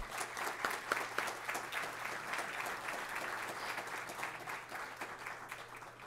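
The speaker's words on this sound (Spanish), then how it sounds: "Un aplauso también." Steady applause from an audience at a panel on Ecuadorian football management and club leaders, dense clapping held evenly throughout with a faint constant hum underneath.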